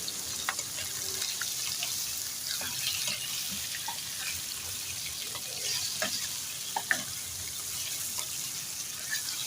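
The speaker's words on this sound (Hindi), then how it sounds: "इसको 6 से 7 मिनट तक इसको भुनाई करेंगे दरमियाने आग पे।" Chicken browning in garlic-ginger paste over medium heat, a steady soft sizzle with occasional scrapes and clicks of a spoon stirring, close and fairly quiet, with no talking.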